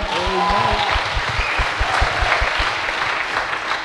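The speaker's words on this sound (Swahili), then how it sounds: "Mupe Yesu sadaka ya makofi." Church congregation at a revival service bursts into loud, steady applause, rapid overlapping clapping filling the room, with a brief voice over it at the start.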